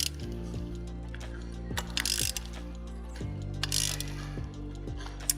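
Tightening the clamp of a bicycle front derailleur on the frame, heard as a steady series of close mechanical ratchet clicks with repeated pawl ticks and a faint whirring underneath, with no talking.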